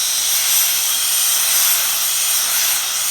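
A steam iron blasts a continuous loud hiss of steam onto a jacket cap shaped by hand on a pressing table, steady and close throughout.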